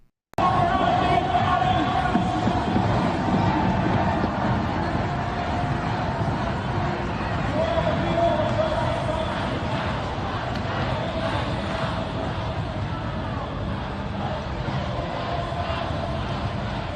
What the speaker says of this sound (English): Let's play clip 6 just so that folks watching can get a sense for the scale of the demonstrations yesterday.